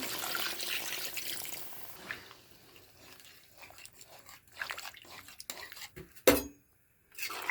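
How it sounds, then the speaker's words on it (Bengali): Water from ground radhuni spice paste is poured into a cooking pan, a soft splashing wash at the start followed by quieter clinks and scattered kitchen knocks. "এখন দিয়ে দিচ্ছি রাঁধুনি বাটার জলটা, একটু জল দিয়ে দেবো।"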